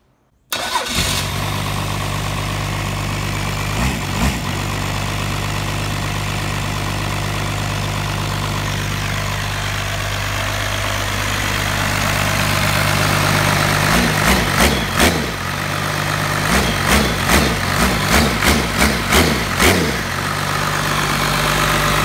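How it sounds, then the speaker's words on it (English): A 12-valve Cummins diesel mounted on an engine stand cranks briefly, catches and settles into a loud, steady idle with a rhythmic low rumble, occasional revs pulsing near the end; nobody speaks. "I finally got it to start."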